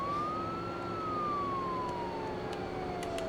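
A police car siren in the BeamNG.drive driving game wails in one slow rising and falling sweep, steady and moderately loud over a constant engine and road rumble.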